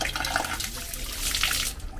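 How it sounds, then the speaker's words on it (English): Water pours and trickles steadily as soaked Orbeez water beads are strained through a filter, a close, continuous splashing and draining with small drips, no voices. "Now let's filter them out and let's see how big the Orbeez have turned out."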